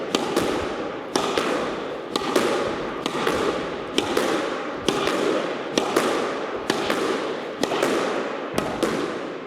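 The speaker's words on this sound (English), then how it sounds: "I'll just show you quickly how to get good at your volley figure eights." Squash ball struck repeatedly in volley figure eights on a court, about ten sharp echoing hits at a steady rhythm of roughly one per second, each ringing off the walls.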